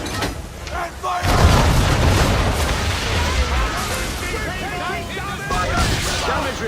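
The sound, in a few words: ship cannons firing in the video game Assassin's Creed III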